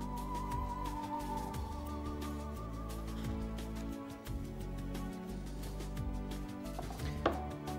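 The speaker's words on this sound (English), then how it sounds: "Take our steak, a nice sharp knife, just cut off the fat and just cut it through on an angle." A sharp knife slicing through steak on a board in a home kitchen: quiet, irregular cuts and light taps, close by, with no talking.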